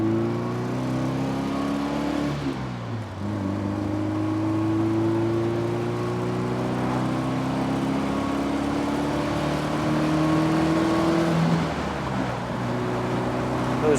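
1967 Alfa Romeo Duetto Spider with Weber carburetors and a 5-speed manual driven on winding roads, its engine humming steadily in the cabin, dipping briefly as the driver shifts gears, then climbing again with a strong, tuneful intake note.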